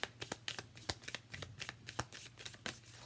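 A deck of tarot cards is shuffled close up, in quick riffling bursts and soft flicks that come in an uneven rhythm, quiet and with no talk.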